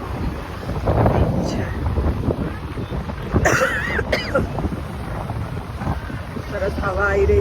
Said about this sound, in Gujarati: સરસ હવા આવી રહી છે